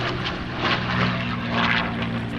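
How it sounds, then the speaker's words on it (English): A vintage P-51 Mustang propeller fighter performs an aileron roll at a Southern California airshow, its steady engine drone loud and continuous, with slight swells in intensity as it passes. "a nice aileron roll in the P-51"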